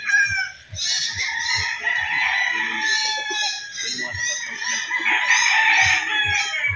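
A White Kelso gamefowl rooster crows loudly and nearby with drawn-out calls, alongside clucking from other fowl and a faint voice in the background.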